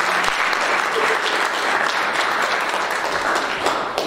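A church congregation claps for the Lord during a prayer service, a dense, steady wash of applause from many hands filling the room without pause, loud and continuous.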